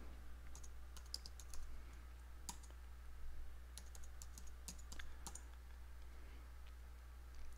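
Light, sparse keystrokes and clicks on a computer keyboard while working in a Linux terminal, quiet taps scattered over a steady low electrical hum, no voices.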